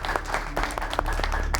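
A crowd at a Kinnar Jag stage event applauds in a brisk, close burst of many clapping hands, sharp patters layered over a low hum of the room.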